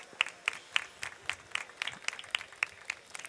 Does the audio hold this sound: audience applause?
yes